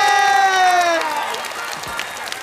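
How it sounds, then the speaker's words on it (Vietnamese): Audience applause at a children's Bolero singing duet contest before judges: a held sung note slides down and fades, giving way to a steady wash of clapping and crowd noise. "Vỗ tay cho hai em thôi nhé"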